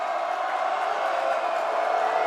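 A packed high school boys' basketball gym, Metamora against Marmion Academy, roars with a dense, sustained wall of cheering during free throws, loud and unbroken throughout.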